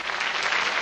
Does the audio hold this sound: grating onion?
no